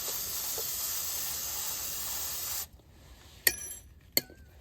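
A steady hissing spray of cleaner from an aerosol can runs for a few seconds while servicing front wheel bearings on a 2001 Ford F150, then cuts off, followed by two sharp metallic clinks in a quiet room.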